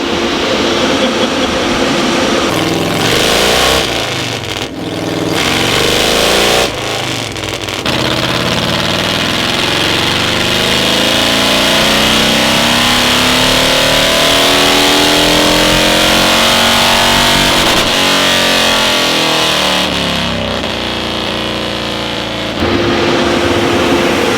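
A Harley-Davidson Road King motorcycle engine on a tuning run, a loud close roar that climbs and sweeps through the revs for a long stretch, then settles back toward idle.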